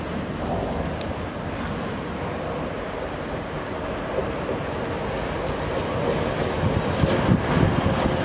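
An express train idles and rolls at a station platform with a loud, steady rumble that swells slightly toward the end, with a couple of faint high clicks.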